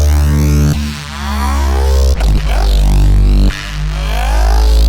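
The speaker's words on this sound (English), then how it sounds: "this is a bass instrument" A deep electric or synth bass line plays loud and sustained alone, with a few sharp attacks breaking the steady low notes.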